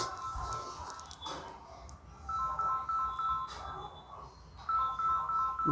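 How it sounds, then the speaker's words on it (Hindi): A mobile phone rings during a physics lecture indoors, playing a repeating melodic ringtone in several moderately loud bursts separated by short gaps. "अरे यार, ये फ़ोन किसका आ गया?"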